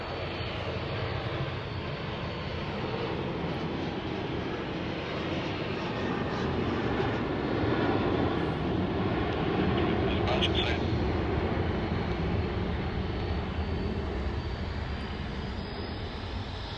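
Jet airliners taxi at Sydney Airport, heard as a steady, distant engine roar that swells slightly midway, with outdoor wind noise and no voices.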